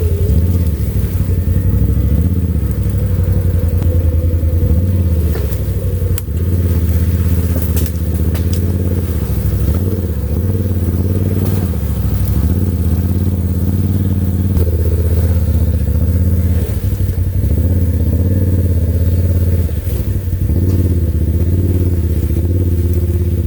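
A 2023 Can-Am Outlander XT850 ATV engine drones loud and steady while riding, a close, continuous low rumble with slight throttle swells and some rattling, heard alone with no voices.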